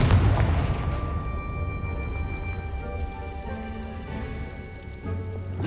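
A Confringo fire spell fired in the game Hogwarts Legacy bursts with a single heavy boom at the start. A long, crackling rumble follows and slowly fades, with a second swell near the end.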